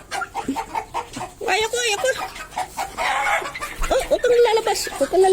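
Chickens cluck and squawk nearby in a busy mix, with people talking over them throughout.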